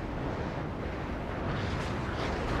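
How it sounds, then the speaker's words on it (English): Grad rocket artillery fires in the strategy game WARNO, a dense continuous rumbling roar of launches that stays loud and unbroken throughout, with no voices over it. "Grads are firing now."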